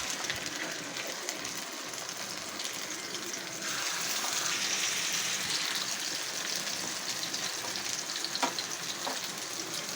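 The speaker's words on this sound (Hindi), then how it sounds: "अब मैं इसमें कबाब तल लेती हूँ।" Kebab patties frying in hot oil in a pan give a steady, close sizzle that runs the whole time, with soft bubbling and a few brief crackles and spatters near the end.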